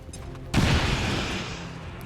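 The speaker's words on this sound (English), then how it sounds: "explosions." A sudden loud explosive blast in the video game XCOM 2 erupts after a brief quiet moment, then a heavy rumbling roar slowly fades, with crackling debris under it.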